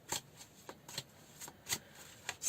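A tarot card deck is shuffled by hand in quiet, soft bursts of riffling and sliding cards, several short irregular shuffles close to the microphone, with no voices.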